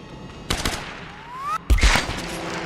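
Tomb Raider video game gunfire, a few quick shots, then a rising whine, then a louder blast of shots. The sounds come in short bursts separated by pauses and play without any voices over them.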